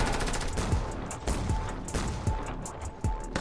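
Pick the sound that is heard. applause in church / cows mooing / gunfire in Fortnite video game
gunfire in Fortnite video game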